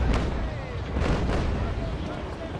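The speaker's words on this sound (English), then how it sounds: "When you fire from the back like this, the chain shots go through multiple sheets of sail" Chain shot cannon fire from a sailing ship in the Naval Action game: several deep booming broadside shots in quick succession, loud and rumbling, over continuous low battle noise.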